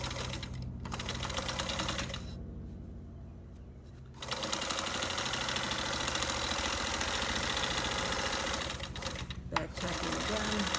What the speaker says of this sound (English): back tacking again. You want everything to stay nice and firm so it doesn't fall apart.